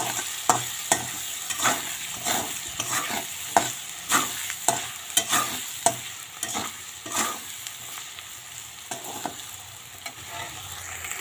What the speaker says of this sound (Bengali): লবণ হলুদ দিয়ে এখন এই যে আলুটা ভাজবো